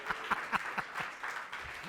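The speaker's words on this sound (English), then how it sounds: "Give a massive round of applause" Audience applause for a guest speaker at a Cape Town startup event, with fairly sparse, evenly spaced claps from a modest crowd that stay steady and moderately loud throughout.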